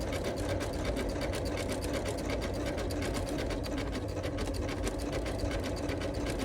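A sewing machine stitching coiled rope into a bowl runs in a fast, even, unbroken whir from start to finish, loud and close, with no voices.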